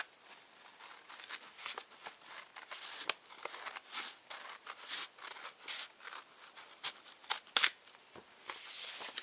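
Scissors cut through folded paper along the crease, making a steady run of close, crisp snipping and rustling strokes that vary in loudness.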